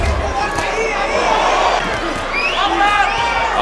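A boxing crowd roars and cheers steadily around the ring during a bout between Cruz and Fierro, with a commentator talking over the noise throughout.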